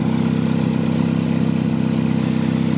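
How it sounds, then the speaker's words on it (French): A 1957 Triumph TR3 "Small Mouth" sports car idles steadily, its engine a continuous, loud, low rumble close by, with no voices over it. "le bruit typique d'une TR3"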